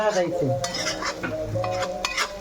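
Paneer fries in a pan while being stirred for a peas-and-paneer dish, with scraping utensil strokes and clinks over a steady sizzle, close and continuous.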